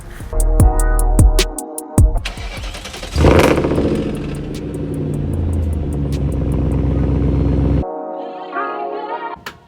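BMW 540i E39 V8 car heard close with a few sharp clicks or bangs, then a loud engine start and steady revving idle lasting several seconds, followed by a shift to a quieter, higher running tone.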